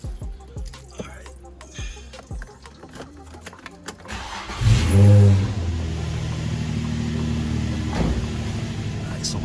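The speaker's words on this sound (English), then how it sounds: "turn the car on and turn the fan on" An Infiniti G35 coupe engine cranks and fires up partway through, settling into a steady idle, preceded by faint handling noises and brief dripping sounds.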